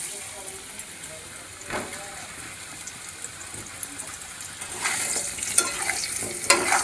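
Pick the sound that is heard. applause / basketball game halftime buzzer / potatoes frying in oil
potatoes frying in oil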